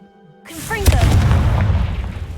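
Confringo fire spell blasting in the Hogwarts Legacy video game, a loud booming explosion with a sharp crack, followed by a sustained rumbling roar that fades slowly.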